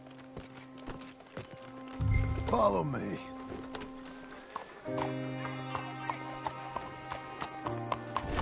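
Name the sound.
horses galloping in Red Dead Redemption 2 video game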